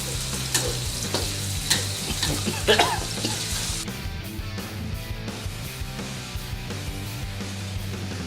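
Leunca berries stir-fried with spice paste in a wok, a steady close sizzle with repeated scraping and clacking of a spatula, one louder stirring burst early on, with no talk.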